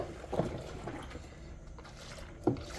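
Hot water poured and sloshed into a large bucket of homemade neutral detergent, a close, low watery churning with two brief louder splashes near the start and end.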